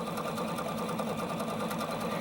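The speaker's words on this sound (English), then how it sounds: "On the sewing machine, we're actually stitching from left needle position to right needle position and back again." A home sewing machine runs a machine-smocking wave stitch, its needle swinging from left to right position and back. It makes a close, steady, rapid mechanical whirring with fast rhythmic clatter and no voices.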